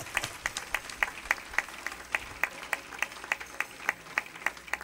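A church congregation claps along in a steady rhythm, sharp regular hand claps sounding about twice per second, moderately close but not loud, with no one talking over them.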